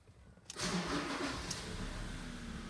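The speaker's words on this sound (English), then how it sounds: "Quickly start the vehicle." A 2015 Ford Ranger 3.2 TDCi diesel pickup cranks briefly and catches, then settles into a steady, close idle that holds to the end.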